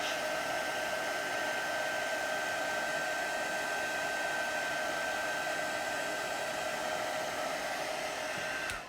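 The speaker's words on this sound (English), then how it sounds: "As soon as we see that embossing powder melt and change to a lovely bright white, we're just going to move the heat gun over the image." A heat gun blows steadily as it melts white embossing powder on a Christmas card image, a continuous loud airy roar with no talk, cutting off at the very end.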